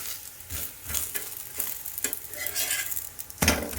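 A moong dal, bajra and ragi chilla sizzles in a hot pan over lowered gas, with close stirring scrapes and bursts of crackle through the short stretch, alone without talk.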